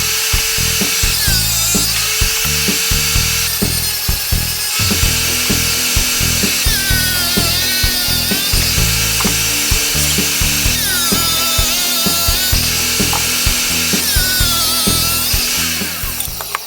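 A tile saw with a diamond blade cuts tiles, a loud continuous whine with the pitch dropping and rising as the blade bites into each tile, varying over repeated cuts.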